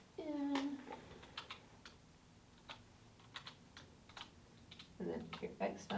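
Numbers being typed into a calculator or computer keyboard for exponential function math, soft scattered key clicks at an uneven pace, fairly quiet, with brief talking at the start and end.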